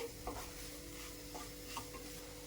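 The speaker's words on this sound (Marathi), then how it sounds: "कर्दीचा छान सुगंध येईपर्यंत आपल्याला कर्दी मसाल्यांमध्ये परतून घ्यायची आहे" Dried shrimp being sauteed in masala spices, a faint, low sizzle under a few soft scraping stirs, quiet and brief with no voices.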